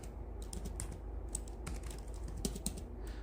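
Computer keyboard typed on in short, irregular bursts of soft clicky keystrokes, close and quiet against a low steady hum, with no speech.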